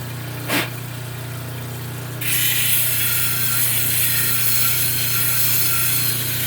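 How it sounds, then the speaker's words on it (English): A 320 grit grinding wheel shaping a gray shell pendant, a steady motor hum joined partway through by a bright, continuous hiss of abrasion as the shell meets the wheel, close and fairly loud. "I wish I had a more aggressive wheel. This is 320 grit"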